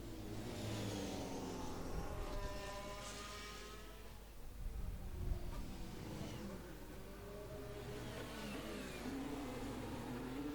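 Audi Formula 1 car in an F1 video game during Spanish Grand Prix qualifying: a faint engine whine rising and falling in pitch as it revs, with talk in the background.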